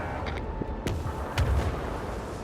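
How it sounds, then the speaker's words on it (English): Large gun batteries on a ship fire in the Warhammer 40000: Rogue Trader game, several muffled booms and sharp cracks going off in quick succession over a rumbling background, moderately distant. "Fire the large batteries. Engage through blessed blast of fire."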